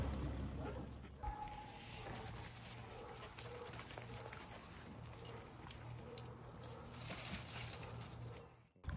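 Foster puppies bark and whimper faintly in a room, with short yips and whines scattered over a low, continuous background.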